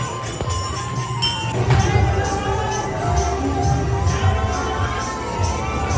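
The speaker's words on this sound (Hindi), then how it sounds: "बहुत ज्यादा भीड़ है संगवारी हो।" A large, dense crowd fills the Jagannath temple during darshan, a loud, steady hum of many voices with scattered shouts and calls close around.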